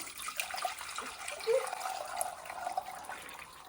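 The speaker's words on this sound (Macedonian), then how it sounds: "Сега ја процедувам супата, односно водата од каде што се вареа крилцата." Broth from boiled chicken wings being strained, a faint, steady pour and trickle of liquid through a strainer at close range, with no talking.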